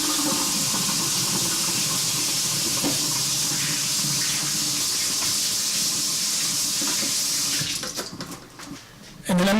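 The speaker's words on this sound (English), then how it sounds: "Let me wash my hands." Hands being washed under a strongly running kitchen tap while cooking pork, a loud, steady close hiss of water that breaks into splashing and rubbing near the end before the flow cuts off.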